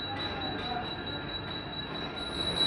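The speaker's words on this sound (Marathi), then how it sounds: "ही गाडी लागते" A Mumbai local train, the last service from Chhatrapati Shivaji Maharaj Terminus to Kasara, pulls in from the siding to the platform, with faint, steady high-pitched wheel squeal over a low rumble.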